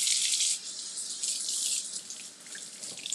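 Tap water runs steadily into a sink while a fresh lemon is rinsed under it, a close, continuous splashing with slight shifts as the fruit moves through the stream.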